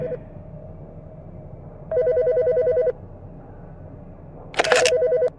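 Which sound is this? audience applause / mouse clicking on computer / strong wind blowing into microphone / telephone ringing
telephone ringing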